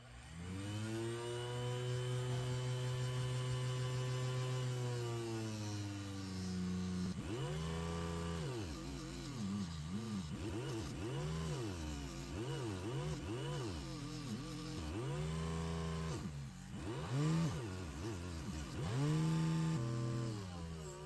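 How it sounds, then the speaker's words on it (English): A buffing wheel polishes the brass and chrome parts of a vintage Schrade Stockman pocketknife, giving off a steady loud motor whine whose pitch dips and rises repeatedly as the parts are pressed against it. "buffing wheel and clean all this brass and chrome up"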